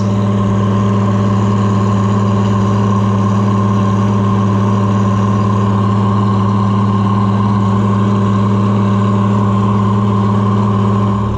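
An Oliver 1655 tractor engine runs steadily during a test drive, a loud, even mid-pitched drone with a strong low hum and no break, slightly sluggish after a distributor change.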